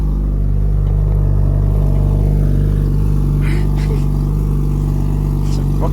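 An Acura TL with a swapped 3.7-litre engine, six-speed, Comptech exhaust and J-pipe at a cold start, droning loudly and steadily at high idle, with the deep rumble close and continuous throughout.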